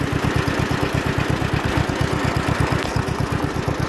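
A small John Deere L tractor engine idles nearby, a steady, even chugging of rapid regular pulses with no talking.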